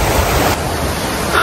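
A monsoon-swollen hill stream seen from a bridge rushes past in a loud, steady roar of turbulent water, close and continuous with no voices.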